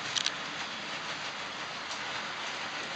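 A model train climbs a helix on a layout, running steadily with a soft continuous rumble and faint rail clatter, a couple of light clicks near the start, no voices.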